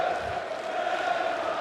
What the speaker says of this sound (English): The volume just goes up a notch in this Dutch crowd